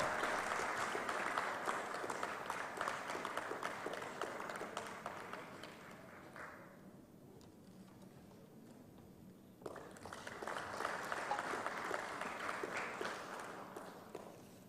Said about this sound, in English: A loud round of applause